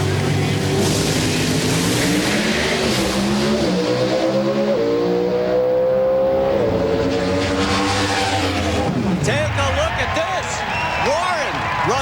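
Drag racing cars at the NHRA Gatornationals in Gainesville, with loud, sustained engine roar and rising revs as they pull away, heard under continuous commentary.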